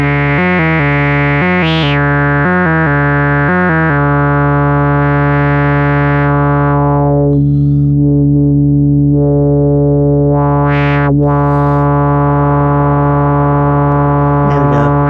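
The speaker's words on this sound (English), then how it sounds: "so I'll go to a triangle." A Eurorack synthesizer VCO holds a steady, bright harmonic tone, first chopped into short repeated pulses, then sustained loud and alone while a filter sweeps down and back up.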